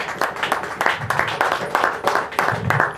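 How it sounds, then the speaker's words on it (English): Audience applause at an informal meet and greet, a few people clapping in an uneven, moderately loud rhythm with overlapping claps for a few seconds. "Let's give his girlfriend a nice round of applause"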